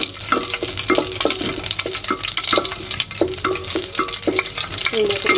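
Bay leaves, garam masala and dried chillies fry in hot oil with a loud, steady crackling sizzle, broken by repeated sharp ticks and scrapes as the spices are stirred close by.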